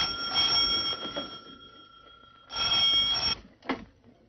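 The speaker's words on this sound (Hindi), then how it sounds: "टेलीफोन आया है।" An old telephone bell rings loudly in a 1959 Hindi film scene, sounding in two sustained bursts separated by a short pause, followed by a brief softer rattle.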